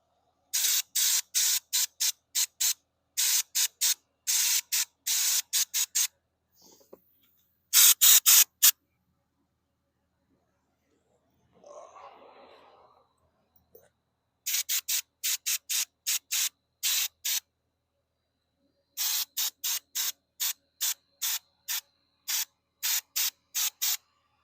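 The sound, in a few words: pressure washer spraying off coating on flag pole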